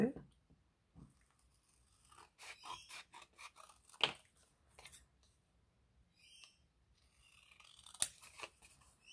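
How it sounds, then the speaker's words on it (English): Scissors cut around a paper printable, a close series of short, sharp snips and crisp paper rustles, sparse and irregular, over a quiet background. "And then I'll cut around her."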